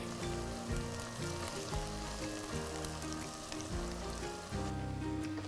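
Onions sizzling steadily in hot oil and ghee inside a large pressure cooker, a dense, even crackle with a faint background hum and no talking.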